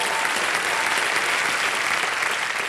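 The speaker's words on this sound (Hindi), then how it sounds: "दोनों का बहुत बहुत स्वागत, तालियां बज जाए उनके लिए।" Dense, steady applause from a TV quiz-show studio audience on Kaun Banega Crorepati, loud and continuous throughout without pause.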